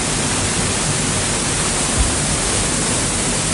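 Water flows steadily at a Balinese waterfall, a dense, even rush with no breaks, close and fairly loud.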